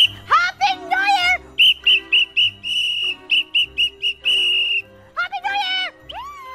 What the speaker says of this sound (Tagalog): Ito, sakto, may whistle!